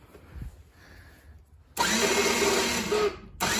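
ATV engine cranking over after the key is turned with the choke on, a loud sudden whirring burst that holds for over a second, stops briefly, then starts again.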